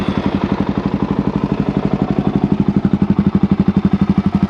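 A modified Suzuki DRZ 400 SM motorcycle engine idles with a fast, even, thumping pulse, loud and close, the beat growing slightly stronger toward the end.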